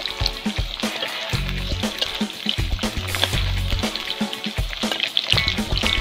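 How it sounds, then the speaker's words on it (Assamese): Potatoes frying in oil in a home kitchen, a continuous sizzle broken by repeated scraping and clanking of a spatula against the pan, moderately loud and close. "আলুখিনি দি অলপমান ভাজি লৈছোঁ আলুখিনি আগতীয়াকৈ"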